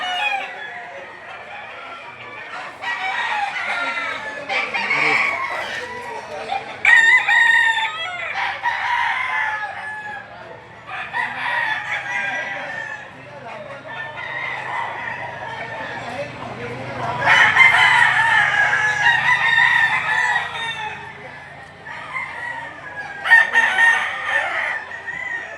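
Many chickens, 38 fowl kept at a market, crow and cluck in repeated bursts, several roosters calling loudly one after another over a quieter background.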